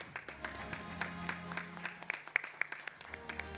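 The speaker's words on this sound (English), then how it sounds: "A round of applause." At a finance forum event in Kenya, an audience gives scattered, moderately faint applause with uneven individual claps, layered over a sustained tonal hum or background music.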